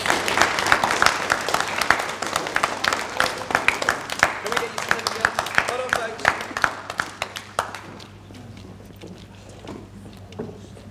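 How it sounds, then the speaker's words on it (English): A big round of audience applause at a school awards ceremony at Co-op Academy Priesthorpe, dense clapping for about eight seconds before quickly tapering off into a quiet room. "So big round of applause, please,"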